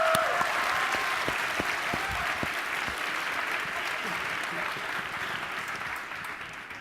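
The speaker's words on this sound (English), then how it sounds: "Can we get a round of applause for Zane?" Sustained applause from an audience at a university public policy competition finals, for a student presenter, a dense, even roar of clapping that slowly fades, with faint voices beneath.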